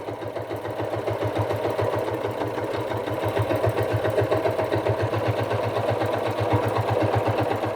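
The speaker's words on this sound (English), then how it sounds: "We're going to go ahead and start back stitching at the top" A sewing machine back stitches along the top of a Christmas stocking, running steadily up close with a fast, even mechanical thrum throughout.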